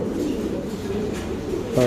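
Soft, low coos of fancy pigeons at a pigeon farm repeat in a gentle warbling rhythm, fairly close, over a steady background hum.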